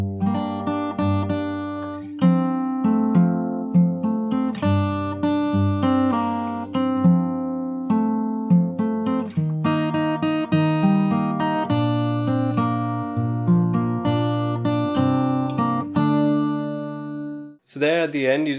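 Fingerstyle acoustic guitar plays the second section of a song, plucked melody notes over bass lines in a steady rhythm, close and clear, stopping briefly near the end before a new sound enters.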